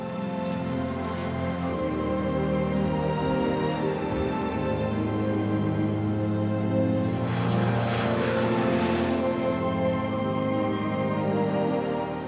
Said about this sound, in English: It's not every day you take off from a runway that's also a beach.